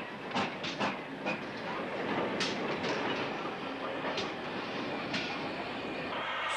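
GWR steam tank locomotive easing off shed, a soft, distant rumble with wheels clanking over rail joints in a loose rhythm and short bursts of hiss, faint and steady throughout.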